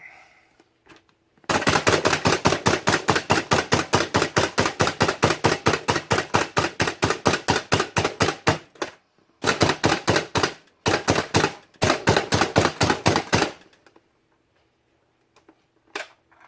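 A knife rapidly minces food on a cutting board, loud rhythmic chopping in fast even bursts with brief pauses between runs, close and alone.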